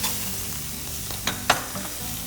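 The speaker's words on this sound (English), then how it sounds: "So right now we're adding oil to our hot pan." Steady crackling sizzle of shrimp frying in a hot oiled pan, with a few sharper pops and clinks partway through.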